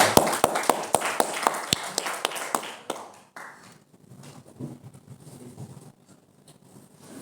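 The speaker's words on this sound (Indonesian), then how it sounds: "Tepuk tangan." Scattered sharp hand claps ring out in a hall at a university Arabic text-reading competition. They come as a brief, sparse run of separate claps, then fade into quiet room noise.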